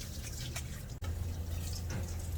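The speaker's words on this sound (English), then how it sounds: "Just rinse a little bit of this." Tap water running and dripping while dishes are rinsed at a sink inside an RV kitchen, a steady close trickle with a brief break partway through, no talking.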